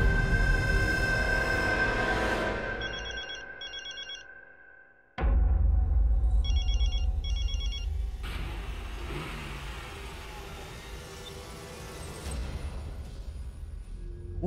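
In a Hindi TV drama scene, a phone call rings out unanswered: two short bursts of repeated high electronic ring tones sound over a loud, rumbling engine-like background and music.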